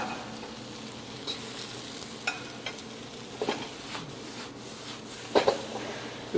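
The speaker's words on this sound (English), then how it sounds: "I'm going to give it one more spin in the wok" Summer vegetables with artichokes and greens sizzle steadily in a hot, dry wok, with scattered clacks and scrapes of tossing that grow louder toward the end.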